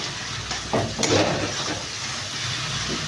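Masala frying in hot oil in a pan for chana dal with asafoetida, cashews and raisins, giving a steady close sizzle with a couple of scraping stirs early on and no talk.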